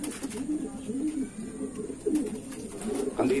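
Taiwan gold line racing pigeons cooing in a loft, soft repeated low coos close by over a steady murmur of background noise.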